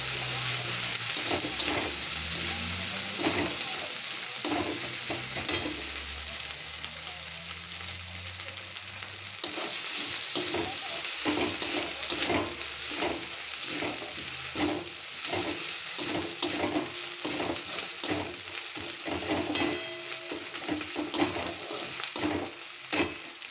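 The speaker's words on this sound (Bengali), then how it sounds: "রসুন আর পেঁয়াজ বাটাটা এর মধ্যে আমি দিয়ে আর একটু কষে নেব" Chicken stomach and liver frying with garlic, onion and ginger paste for a village-style curry, a continuous sizzle with a dense run of quick stirring scrapes building through the second half, close and steady.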